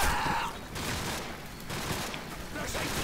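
Rapid gunfire rattles in Call of Duty 4: Modern Warfare during an intense firefight, sounding as repeated bursts with shouted voices over the shooting.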